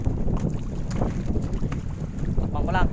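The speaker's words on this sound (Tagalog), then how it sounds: "Kasi sobrang lakas na ng hangin tsaka yung alon." Strong wind and rough waves at sea around a small fishing boat, a steady broadband roar of gusts buffeting the microphone and water sloshing, with faint voices now and then.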